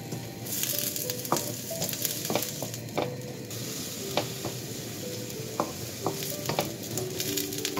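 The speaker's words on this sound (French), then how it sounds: "là j'ai pris un wok, vous déversez un peu d'huile d'olive, on y déverse notre oignon" Onion frying in olive oil in a wok: a continuous moderate sizzle punctuated by sharp clicks and scrapes of stirring, with no voices.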